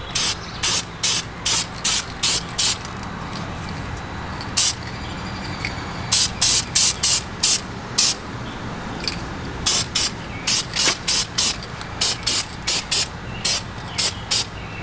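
Short bursts of aerosol spray paint hiss repeatedly over a car brake caliper, loud, close and irregular, with clusters of quick spurts separated by brief pauses.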